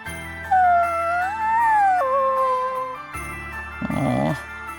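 A puppy whines and whimpers in the video game Bravely Default II, a high, wavering cry rising and falling over soft game music, followed by a short jingling flourish.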